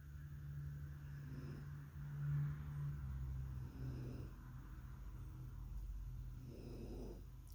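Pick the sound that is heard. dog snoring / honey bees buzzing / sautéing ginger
dog snoring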